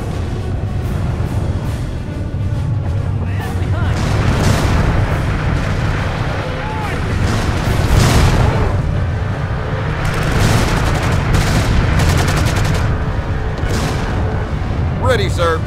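Artillery booms and bursts of gunfire from the World War II strategy game Order of War, set during the D-Day invasion, rumbling steadily and loudly through the whole stretch beneath ongoing battle noise with voices talking over it.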